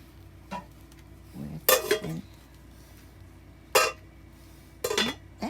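Several loud metallic clanks and clatters of nonstick pans, a frying pan and lids being set down and handled, spaced irregularly with quiet gaps between.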